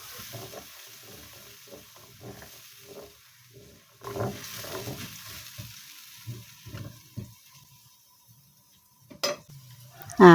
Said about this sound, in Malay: tumis serai dengan bawang besar tu. Masukkan bahan kisar sekali.